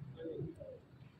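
A pigeon, one of a fancy domestic breed kept by a pigeon fancier, gives a single soft, low coo, quiet and close, that lasts about a second.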